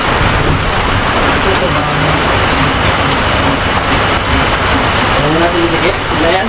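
Heavy rain pours steadily at a housing project site, a loud constant hiss of drops on surfaces, with voices talking over it.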